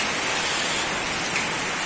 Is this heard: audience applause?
no